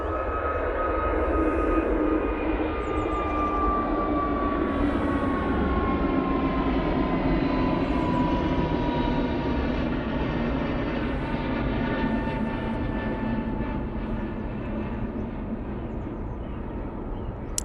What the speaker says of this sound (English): A321neo going off to Malta now